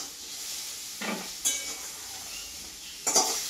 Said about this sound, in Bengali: এই যে খুব সুন্দরভাবে আমি হালকা ভাবে ভেজে নিয়েছি।